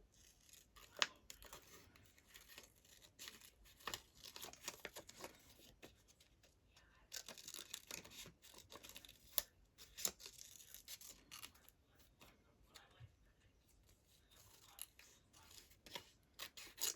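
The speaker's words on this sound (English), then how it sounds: "So I'll just do a very quick fussy cut of the butterfly." Scissors make a quick fussy cut around a butterfly shape in recycled junk mail paper, producing soft, close, irregular snips and paper rustles throughout at low volume.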